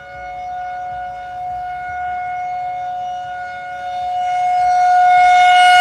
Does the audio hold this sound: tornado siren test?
yes